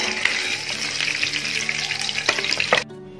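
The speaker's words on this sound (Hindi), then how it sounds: "अभी इसी ऑयल में हम प्याज डाल देते हैं" Onions fry in oil left over from browning meat for Afghani pulao, a loud continuous close sizzle with scattered crackles and a few scraping stirs, then it cuts off abruptly near the end; no voices.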